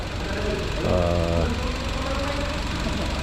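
A Perodua Ativa's three-cylinder engine idles after starting, a low, steady rumble with a faint rhythmic knock and a brief rise in tone early on.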